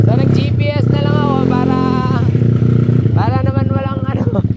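A 261cc motorcycle fresh from minor maintenance, including carburetor work and a valve clearance adjustment, runs loudly and steadily up close, its engine note rising and falling as it revs, with a voice talking over it.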